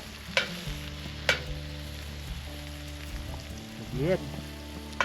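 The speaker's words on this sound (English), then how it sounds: "We're doing the ultimate test with the eggs" Eggs with jalapenos frying in a new pan at an off-road campsite in British Columbia, a steady sizzle with a few scraping stirs and clicks, close by, with a brief spoken word.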